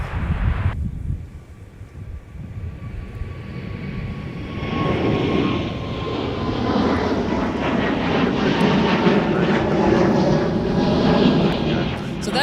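An airliner on its takeoff roll from runway 30 left at MSP airport, a jet roar swelling from a faint whine into a loud, sustained rushing thunder at close range.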